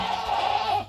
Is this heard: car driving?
no